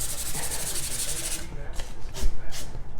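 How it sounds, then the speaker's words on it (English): Hand sanding a waxed furniture finish with 400 grit sandpaper, a steady hissing rub followed by a few short scuffing strokes, close and fairly loud. "you do that with the sandpaper. Same sandpaper, 400 grit"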